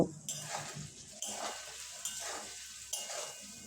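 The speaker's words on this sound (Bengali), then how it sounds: "আমি পনিরটা বেশ লাল লাল করে ভেজে নেব" Paneer fries in a pan with a pinch of salt and turmeric, with scraping and clattering from the cookware and a steady sizzling hiss between the bursts.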